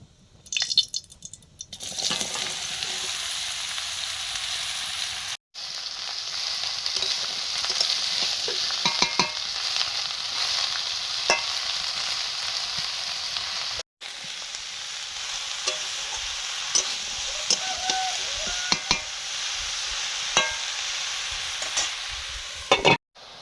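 Bottle gourd is stirred as it sizzles in oil, a continuous loud frying hiss over many seconds, broken by scraping and clinking of the stirring spoon and two short cut-outs.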